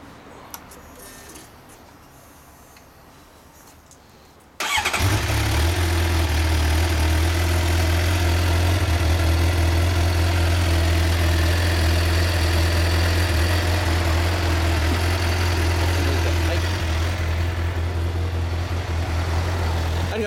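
A Suzuki GSX-R750 motorcycle engine starts abruptly after a quiet moment and settles into a loud, steady, deep idle that rumbles on alone for about fifteen seconds.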